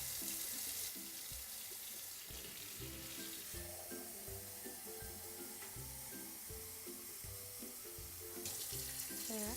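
Water runs from a kitchen tap in a steady, close splashing stream into the sink, continuous and fairly loud throughout.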